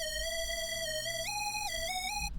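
A bare synth lead for a hip-hop type beat with no effects on it, playing a simple melody that steps up and back down in sustained, clean tones with no voices.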